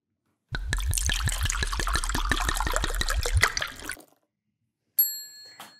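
Thick green smoothie pouring from a blender jar for about three seconds, a dense glugging, splashing stream that stops abruptly, followed after a pause by a bright glassy ding.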